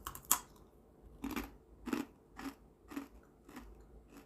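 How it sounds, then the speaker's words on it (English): Crisp crunching bites of a snack dipped in pistachio paste, a sharp snap followed by about six evenly spaced chewing crunches, close and fairly quiet with no talk. "do you hear the crunch?"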